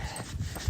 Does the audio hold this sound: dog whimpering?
yes